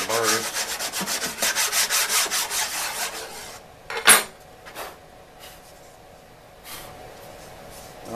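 A hand file rasps burrs off the edges of freshly drilled holes, with rapid rhythmic scraping strokes for about three seconds, then a sharp knock and a few scattered lighter scrapes and taps.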